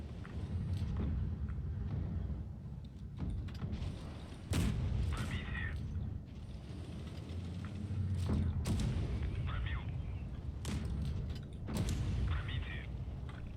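Tank cannons firing in the mobile game World of Tanks Blitz, heavy booming shots recurring every second or two over a continuous low engine rumble, with occasional metallic ricochet pings and someone talking over the action.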